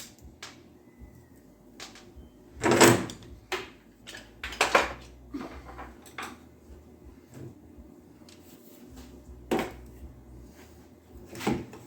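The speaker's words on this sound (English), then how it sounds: "I better take all my stuff off the top here if I'm going to be whipping this lid open." Lid of a 2003 Dodge Ram 3500 dually opened amid a run of sharp clunks and knocks, with one loud bang near the start and several softer thumps and rattles spaced irregularly after, close by with no talk.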